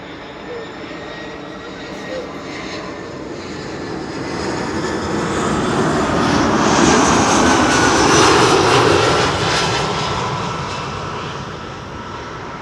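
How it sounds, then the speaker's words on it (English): EasyJet Airbus A319 jet arriving from Milan at Schiphol, a broad engine roar that swells steadily toward a loud peak around the middle and then eases slightly as it passes, with faint talk in the background. "This is EasyJet flight 27806, A319 arriving from Milan"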